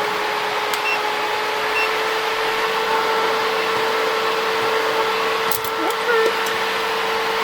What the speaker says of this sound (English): It's a little loud, but honestly, I feel like all dust collectors are loud.